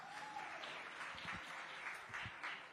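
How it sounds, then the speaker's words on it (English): Audience applause at a women's empowerment event, steady distant clapping from a crowd filling the hall, fairly soft and continuous. "So a big round of applause for all of us,"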